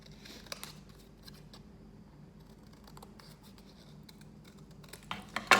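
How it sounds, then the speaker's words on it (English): Scissors snip through card while a star shape is cut out, with faint scattered clicks and scratches and a few louder cuts near the end, close and quiet with no talk. "I've cut my star out"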